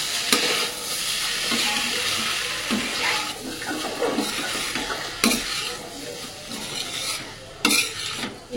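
Ingredients stirred and mixed together in a cooking pan over a soft sizzle, with repeated scraping strokes and a few sharp clanks of utensil on metal, close by and alone.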